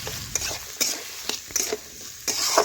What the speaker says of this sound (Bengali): আলু গাজর মশলার সাথে ভালোভাবে কষিয়ে নিতে হবে।